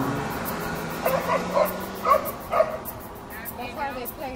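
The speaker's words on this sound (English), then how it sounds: "That's how doggies play." Several dogs yip and bark in short playful bursts at an outdoor dog park in downtown Toronto, moderately close, with people talking over much of it.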